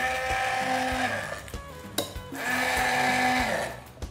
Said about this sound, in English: And then let's blitz this.